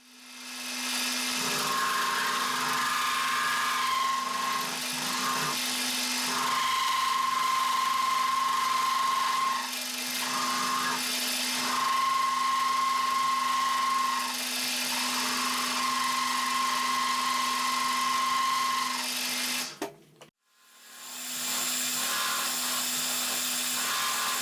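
A milling machine cuts T-slot cleaner parts held in a vise, a steady high whine with a constant tone that drops out briefly and then resumes, loud and close with no talking.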